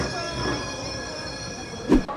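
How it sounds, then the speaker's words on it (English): A tram rumbles past close by in Amsterdam with a metallic hum and a brief squeal of wheels on the tracks near the end. "we have trams here"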